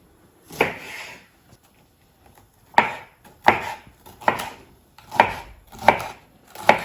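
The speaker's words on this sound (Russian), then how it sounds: "Мы их сейчас мелко-мелко нашинкуем." A knife finely chops vegetables on a board for borscht: one early cut, a pause, then a steady run of sharp, close, evenly spaced chops with no talking.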